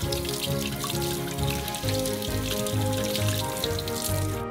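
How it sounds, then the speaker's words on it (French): Perch fish rinsed under running water, a steady close splashing stream with shifting spatter as the fish is moved under the flow, no talking. "On les rince bien."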